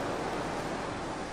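Continuous beach surf, an unbroken hiss of ocean waves at a steady level, briefly and alone, with no speech.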